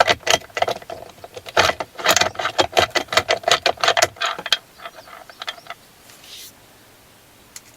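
A 10mm socket ratchet loosening a bolt on a Tesla Model 3 screen mount: a rapid run of close, bright ratcheting clicks for several seconds, tapering into a few scattered softer clicks.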